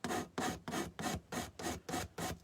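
Wood being hand-sanded on a lantern built from Jenga blocks, eight even back-and-forth rasping strokes in a steady rhythm, close and fairly quiet.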